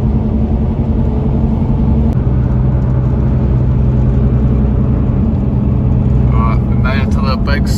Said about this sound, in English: gonna load up my truck and start cruising on down to the Coromandel